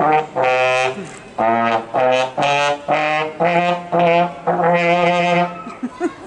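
A didgeridoo is blown clumsily like a beginner child's playing, giving a series of short, broken buzzing honks with gaps between them, close and fairly loud.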